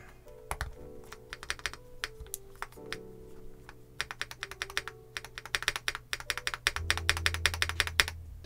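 An MMStudio Class80R2 mechanical keyboard is typed on steadily, giving dense, crisp key clacks in rapid irregular runs that grow busier toward the end, with a low steady hum beneath.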